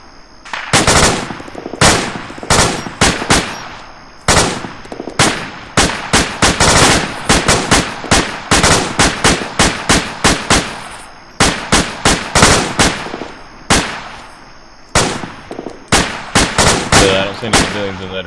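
Long, loud bursts of automatic fire with tracers in ARMA 2, repeated close-range volleys separated by short pauses, running almost continuously and free of talk.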